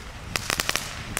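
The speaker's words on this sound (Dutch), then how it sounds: "voor mij zijn dit gewoon knetterrotjes" Knetterrotjes, small crackling firecrackers from an Aldi fireworks set, pop in a quick irregular burst of about six sharp snaps, then a lone final crack, close by and moderately loud.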